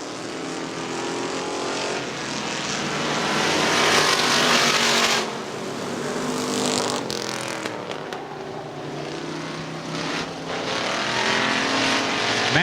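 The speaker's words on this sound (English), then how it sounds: "John Foote in the 11 car being passed and thumped slightly by Matt Egan." Street stock race cars roar around Butler Motor Speedway, engines rising and fading as packs pass close by, loud and continuous with swelling and dropping engine noise.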